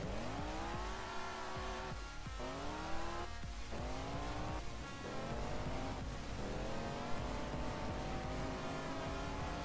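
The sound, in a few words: motorcycle riding and wobbling in video game BeamNG.drive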